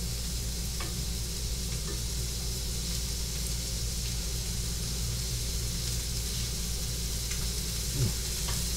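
A burger frying in a pan beside a pot of French onion soup on the stove, a constant even sizzle with a low steady hum underneath and occasional faint clicks, no talking.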